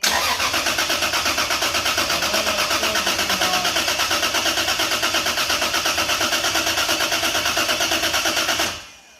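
Lexus IS300 engine cranking with the fuel disconnected, a loud, close, rapid rhythmic starter whir that runs on steadily without catching, then cuts off at the end.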